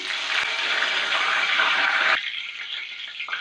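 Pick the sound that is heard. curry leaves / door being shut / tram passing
curry leaves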